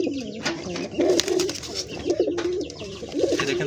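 Pigeons coo close by, repeated low throaty coos in a rolling rhythm over a busy loft background of rustling and faint chirps, with no talking.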